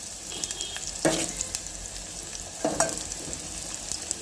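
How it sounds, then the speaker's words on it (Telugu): Onions sizzling in a pan for masala dal, a steady close frying hiss with two louder bursts as they are stirred. "ఆనియన్ కొంచెం ఎర్రగా అయ్యేదాకా వేయించుకొని"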